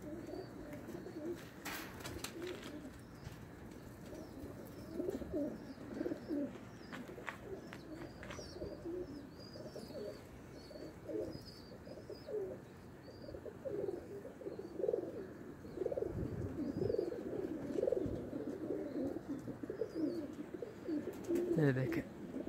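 Baby pigeons in Tabuk, Saudi Arabia coo softly and repeatedly among a steady low murmur, with faint chirps above and occasional flutter-like bursts as the flock is released to fly together.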